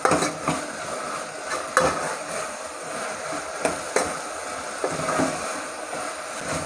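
Sambar ingredients sautéed and stirred in a pan, a soft steady sizzle broken by repeated scraping knocks of a spoon against the metal, close by with no talking.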